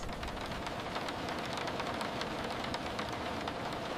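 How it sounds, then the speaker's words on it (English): Heavy rain pouring outside a cabin at night, a dense, steady hiss of drops drumming on surfaces at constant loudness with no breaks. "on this rainy night."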